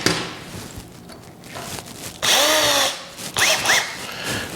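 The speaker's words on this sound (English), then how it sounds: "And I'm going to drill a small hole." A power drill with a small bit whirs in short bursts, its pitch rising and falling as it bores a small hole into wood for a floating shelf, with a few thumps between runs.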